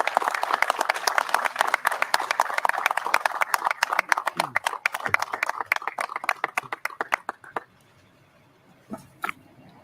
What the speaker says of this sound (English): let's give a round of applause and a giant thanks to our fire chief, Chief Frederick